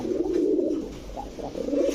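A male Chila pigeon calls in low, throaty coos close by, two rolling phrases separated by a short pause, with no voices over them.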